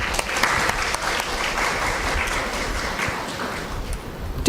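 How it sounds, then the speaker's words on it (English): At an inaugural ceremony for an international conference, the audience gives a dense, sustained round of applause from many hands that holds steady and slowly eases off toward the end. "Please give a huge round of applause"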